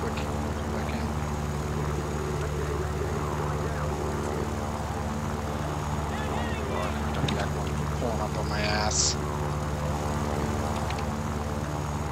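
Propeller fighter plane engines droning steadily in a flight combat video game, a constant layered hum with faint game effects, under a speaking player's voice.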